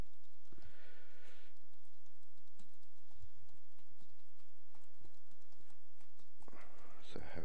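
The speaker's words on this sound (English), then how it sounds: "type in my BPOS admin username and password" Keys tapped on a computer keyboard while an admin username and password are entered, a scattered run of soft, close clicks with uneven gaps and bursts of noise at the start and end.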